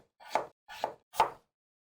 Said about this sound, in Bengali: মিষ্টি কুমড়া কেটে নিব।